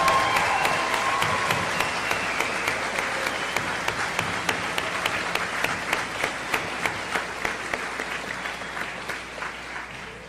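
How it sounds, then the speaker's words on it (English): A graduation audience for the Telstar class of 2025 applauds, a broad wash of sustained clapping filling the hall at steady strength and tapering slightly toward the end. "Can we have a round of applause?"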